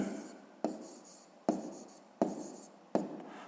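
Pen writing on paper while working a fifth-grade maths exercise: four quick stroke bursts, each starting with a sharp scratch and fading into a dry scribble, close and clear with no talking.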